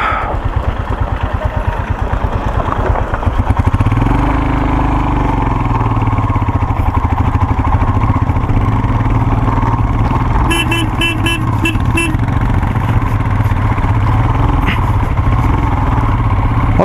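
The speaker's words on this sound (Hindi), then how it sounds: "हमारी जो बाइक से फर्स्ट गियर में रेस ही नहीं ले रही।" A motorcycle labours up the rough, winding road to Chang La pass in first gear, its engine droning loudly and continuously for the whole stretch, with a few horn-like tones partway through.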